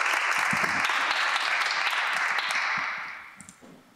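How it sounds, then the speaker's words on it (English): Sustained audience applause greets a student panel at a live Douglass Day event, a dense wash of clapping that holds steady for about three seconds, then fades out toward the end. "Please join me in a round of applause and welcome the students"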